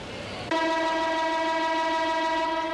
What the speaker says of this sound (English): As the hooter sounds for the quarter-time break